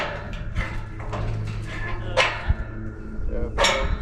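Dogs on an Alaska homestead bark in several sharp, close bursts with a few softer yips between, while people talk nearby.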